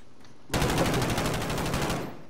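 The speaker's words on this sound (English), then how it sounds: "I'm running. I'm getting shot at." Sustained automatic gunfire in Call of Duty Modern Warfare Warzone, a loud rapid burst of close shots bursting in after a quiet lead-in and rattling on for about a second and a half before cutting off.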